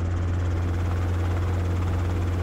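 A helicopter flies at about 1,000 feet over New Orleans, heard from inside the cabin: a loud, steady rotor and engine drone with a strong low hum runs unbroken throughout, and no voices sound over it.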